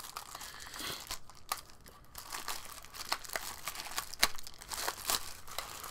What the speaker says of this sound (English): Opening the bag, opening the bag.